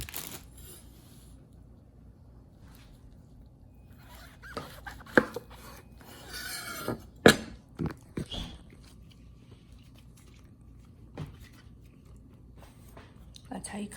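Knife slicing through mushrooms on a cutting board while prepping several mushroom types, including king oyster, for a Lao-style BBQ: a few sharp, scattered cuts and taps near the middle, otherwise quiet.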